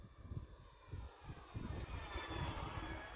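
An E-flite P-51D Mustang 1.5m RC plane with flaps down flies under throttle, its motor a steady distant drone with a faint rising whine, over gusty wind buffeting.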